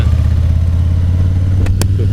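A 2018 Harley-Davidson Fat Boy 114 with a tuned aftermarket muffler rumbles steadily at close range, its low exhaust throb continuous with a couple of sharp clicks near the end.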